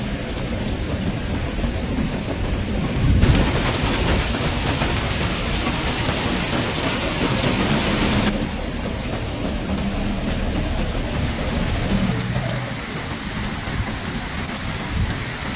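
Heavy, steady rain pours down during flooding in Gjirokaster, Albania, a dense continuous roar with low rumbling underneath, loud and unbroken throughout, with no voices.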